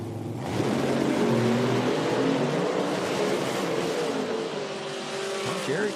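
A Pro Mod drag race car at an IHRA qualifying event, a loud sustained engine roar with tire noise rising in after a brief quiet start and continuing steadily at close range.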